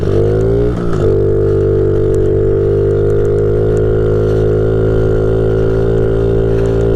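A Honda CRF 50 pit bike engine holds a steady drone in second gear while cruising straight through snow, loud and close, with a brief dip and shift in pitch near the start before settling into an even hum.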